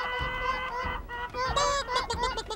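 People imitating chickens in a chicken-themed setting, several voices clucking and squawking in a broken, honking burst that rises toward the end.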